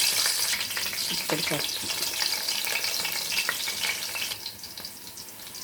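Onions and green chilies sizzle in a generous amount of hot oil as a tempering for a fish curry, with occasional stirring; a voice speaks briefly over the steady frying.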